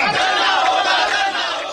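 Protesting young doctors clash with police during a baton charge on a road in Quetta, a dense roar of shouting crowd voices filling the scene continuously and loudly without a break.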